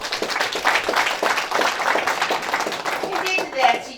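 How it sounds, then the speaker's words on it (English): A small group claps for facilitators at a teachers' gathering, a steady patter of hand claps lasting several seconds with a voice speaking over it. "Allow me to clap for our facilitators."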